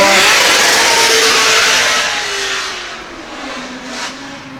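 A drift car's engine roars loudly and continuously during a professional qualifying run at a British Drift Championship round in Birmingham, fading slightly as the car moves off, with no talk over it.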